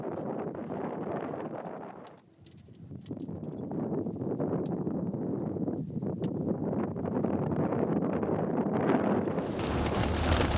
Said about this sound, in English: The wind is crazy, as you can hear and see probably.